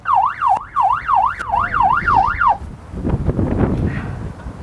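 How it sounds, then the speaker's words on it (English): A loud electronic siren wails up and down in rapid, regular cycles for a couple of seconds, then stops, leaving rumbling background noise. "I'll put the siren on."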